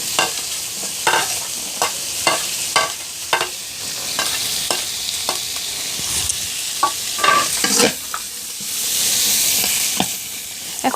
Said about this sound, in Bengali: এখন সব উপকরণগুলো ভালো করে নেড়ে চেড়ে বাদামি কালার করে ভেজে নিতে হবে